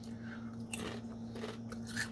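A few crisp bites into thin, crunchy Peacasa sea salt chickpea chips, short snapping crunches close to the mic over a steady low electrical hum, with no speech.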